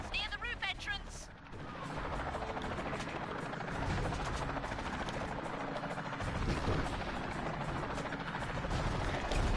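A helicopter in the action video game Pursuit Force drones steadily under loud gunfire, crashes and other game noise, while a player talks over the action throughout.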